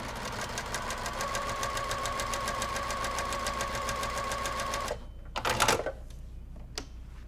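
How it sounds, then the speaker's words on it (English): A sewing machine stitches quilt fabric triangles along a marked line in a fast, even mechanical chatter lasting about five seconds, then stops, followed by a brief rustle of fabric and a faint click. "we will go stitch directly on this line."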